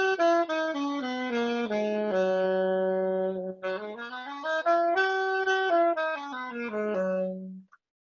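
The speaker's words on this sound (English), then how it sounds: "We can also use the bebop scale, which is the one I tried to play first" A bebop scale played as a run of clean, sustained pitched notes, stepping down and then back up before ending on a held low note; the tone is clear and isolated, with no talk over it.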